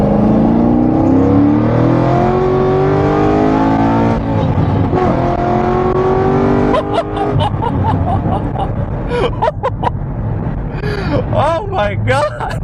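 A modified 2009 Chevrolet Corvette Z06 with an LS engine accelerates hard on the road, its loud rising engine roar heard from inside the car while people talk and exclaim over it.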